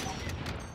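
Dense rapid gunfire from the Warzone video game rattles loud and continuous in a short burst, with a voice faintly underneath.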